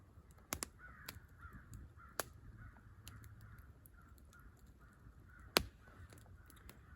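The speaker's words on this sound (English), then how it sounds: "Those crows are going nuts." Crows call in Uwharrie National Forest, several harsh caws scattered across a quiet woodland backdrop, some sharp and near, others fainter, with sudden loud accents between softer calls.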